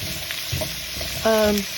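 Food simmers in olive oil with a continuous crackling sizzle and occasional soft pops, and a brief ringing tone cuts in just past the midpoint.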